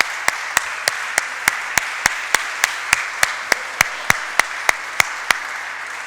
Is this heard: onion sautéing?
no